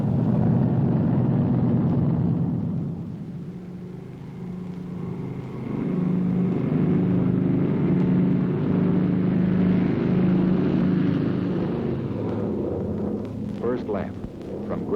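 Massed bomber aircraft engines roar in a loud, continuous low drone as planes take off for a mass flight, swelling and easing slightly over time with a rougher burst near the end.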